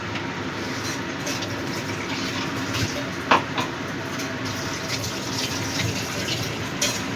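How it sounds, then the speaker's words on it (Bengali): Rinse water from a mixer grinder jar is poured into a sizzling pan of mustard-poppy paste for a pabda fish curry, a rushing splash over constant frying hiss, with a few light clinks. "মিক্সার গ্রাইন্ডারটা ধুয়েও একটু জল দিয়ে দিচ্ছি"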